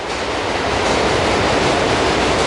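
A commuter train arrives at Ghatkopar station in the Mumbai suburbs, a dense, loud, steady rumble and rail roar filling the short stretch without any voices.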